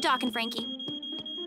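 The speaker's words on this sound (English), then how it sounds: "Oh, the smoke alarm." A high, steady electronic smoke alarm tone sounds continuously in a cartoon while a voice speaks briefly over it.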